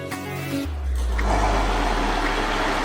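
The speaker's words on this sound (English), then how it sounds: "put it into the blender and turn it on" A blender motor kicks in after a brief start while grinding peanuts into paste, settling into a steady loud whirring roar with low grinding that continues without pause.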